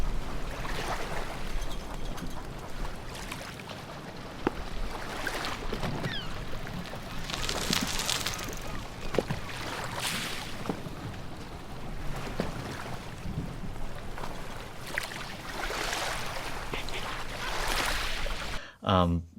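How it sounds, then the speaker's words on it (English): Busy seaside harbor ambience: a continuous bed of wind and lapping water with scattered knocks, clinks and rattles, some louder swells, and faint voices in the background. "sound like you're at a busy harbor next to the sea with bicycles and flags and winches and boats and cars going by"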